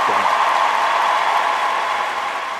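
Dense, steady applause from a crowd, continuous hand clapping that fills the whole stretch and tapers slightly toward the end.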